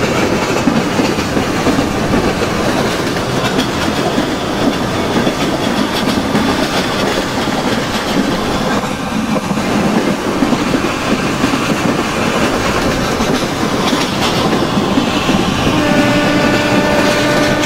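An Indian intercity superfast express running on rails in the Open Rails train simulator, out of Mumbai CSM Terminus toward Pune, gives a loud, continuous rumble with rhythmic wheel clatter and steady rail hiss, with brief tonal horn-like notes near the end and no talk.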